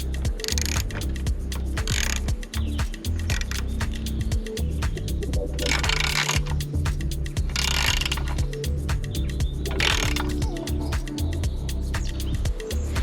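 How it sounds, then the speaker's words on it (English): A socket wrench fitted with a 10mm head ratchets a bolt tight on a 2021 Yamaha MT-07 motorcycle, repeated mechanical clicking bursts close by, with a faint steady hum in the background. "I'm just going to get my socket wrench with a 10mm head and tighten up."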